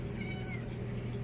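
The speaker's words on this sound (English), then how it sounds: "Oop, stepped on a cat." A single short cat meow after the cat is stepped on, close and clear, over a low background hum.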